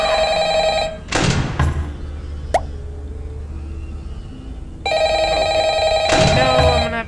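A telephone rings in the horror video game Five Nights at Freddy's Ultimate Custom Night, two loud electronic ring bursts separated by a few seconds of quieter game ambience and a short click.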